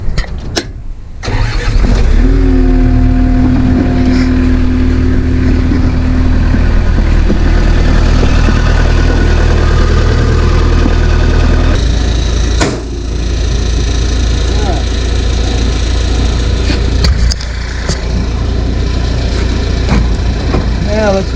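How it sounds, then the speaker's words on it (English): A loader's engine cranks and fires up, then settles into a loud, steady low rumbling idle with a tonal whine early on and two brief dips, while someone talks over it. "Alright, let's crank it up."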